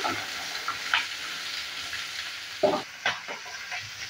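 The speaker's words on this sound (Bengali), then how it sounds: "পেঁয়াজকলিটা দেওয়ার পর নেড়ে চেড়ে নিচ্ছি আবারও।" Egg frying with spring onion in a pan gives a soft steady sizzle, broken by a few distinct spatula scrapes and knocks as it is stirred, close and fairly quiet.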